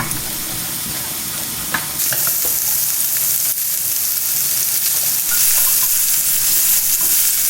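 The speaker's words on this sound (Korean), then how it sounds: "2분간 볶아줄 거예요" Asparagus with salt stir-frying in a hot oiled pan, a loud continuous sizzle that grows brighter partway through, with occasional scraping stirs and no talk.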